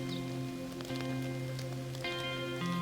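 Heavy rain falls as a constant hiss under sustained tonal music, steady and even for the whole stretch.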